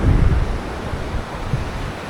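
Steady rush of ocean surf washing onto the beach, a broad continuous roar with slight swells, fairly close and with no voices.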